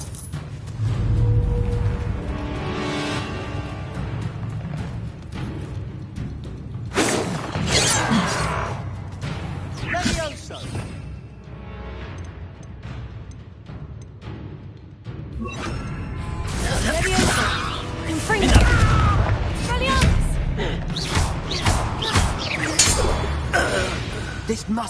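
Bursts of Confringo and Bombarda spell blasts in a Hogwarts wizarding game whoosh and crash, along with clinks and shattering, in waves across a long stretch. Characters talk and shout throughout.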